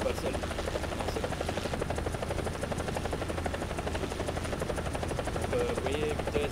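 A helicopter flying in the combat game War Thunder gives a steady, close rotor thrum and engine buzz that runs unbroken throughout.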